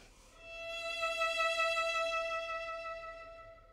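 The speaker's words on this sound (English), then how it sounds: "And if you use vibrato, it sounds like this." A single sustained violin note played with vibrato rings clearly and alone, its pitch wavering gently after a soft bow attack and holding steady for several seconds.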